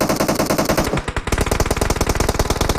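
Rapid automatic gunfire in the mobile shooter PUBG Mobile, loud and close, rattling in dense bursts that break off briefly and then resume in a fast, even volley.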